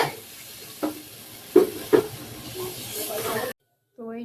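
Water poured into a pan of nearly finished, hot frying spice paste gives a loud, broad hiss that rises and holds for a few seconds, with a few knocks of utensils, before cutting off abruptly.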